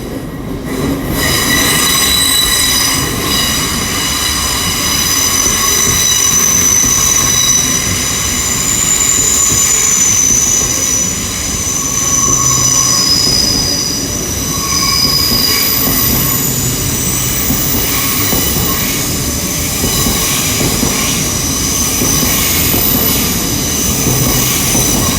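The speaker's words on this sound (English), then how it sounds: "got the IET now going out" A GWR IET train pulls out of London Paddington station, a loud sustained rumble of wheels on rail with high metallic squealing tones running throughout, close by and alone.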